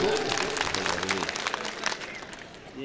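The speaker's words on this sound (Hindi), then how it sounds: "मुशायरा करने के लिए जोरदार तालियां बजा दोस्तों" Applause from the audience at a mushaira poetry gathering, a dense wash of clapping that holds steady and thins slightly toward the end, with a voice speaking over the start.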